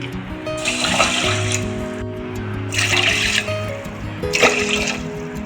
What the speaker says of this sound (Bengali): এক কাপের একটু কম আমি চিনি দিয়েছি, হ্যাঁ, আর 3 কাপ মতো জল দেব।